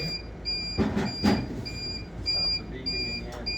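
A Heidelberg CTP platesetter beeps in short high electronic pulses against a steady mechanical hum, with a couple of louder rustling bursts in between.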